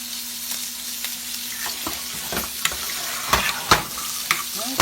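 A whisk stirs creamy grits in a pot, a close, bubbling, scraping sizzle with a few sharper clicks toward the end.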